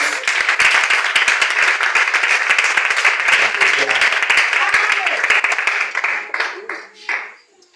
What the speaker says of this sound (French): Acclame encore pour ta présence